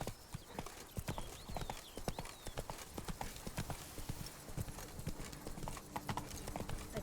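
Horse hooves clip-clop in a steady trotting rhythm on a road in The Witcher 3: Blood and Wine, sharp and close, with a faint whinny early on.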